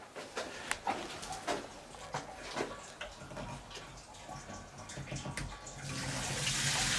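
A toilet flushing on an off-grid rainwater system, a rushing, gurgling flow with scattered splashes and clicks that swells into a louder hiss of refilling water toward the end.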